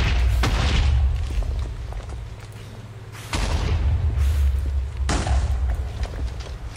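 Enemy gunfire in the modded Minecraft pack Sky Factory 4, heard as loud, heavy booming shots and thuds, several in succession with a rumbling low end.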